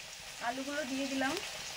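Potatoes frying in mustard oil with black cumin and bay leaf make a steady, soft sizzling hiss in the pan, while a voice speaks briefly over it.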